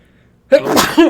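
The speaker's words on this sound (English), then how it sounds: "Oh, here comes a sneeze." A single sneeze from a man, close and loud, opening with a sharp burst after a short quiet moment and trailing off in a brief second exhalation.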